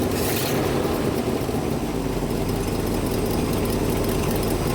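A Ford F-600 dump truck engine idles nearby with a deep, steady rumble and even knock, running smoothly and continuously, with no voices.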